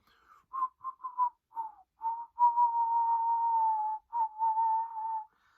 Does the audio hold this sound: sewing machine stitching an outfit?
no